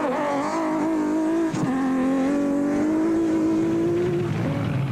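Heard on board a Nissan Hardbody Super Truck in an off-road endurance race, the racing engine drones loudly and steadily with a rising, sustained pitch and a brief gear-change dip, with no voices.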